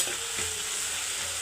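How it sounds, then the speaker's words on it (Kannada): Cumin, onion and chillies frying together in oil in a pan, a close continuous sizzle with a quick scrape of stirring near the start, no talking. "ಜೀರಿಗೆ, ಈರುಳ್ಳಿ, ಮೆಣಸಿನ ಎಲ್ಲ ಒಂದೇ ಸರಿ ಹಾಕಿ ಫ್ರೈ ಮಾಡ್ತಾಯಿದ್ದೀನಿ."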